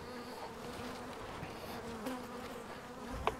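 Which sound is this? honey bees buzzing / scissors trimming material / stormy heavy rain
honey bees buzzing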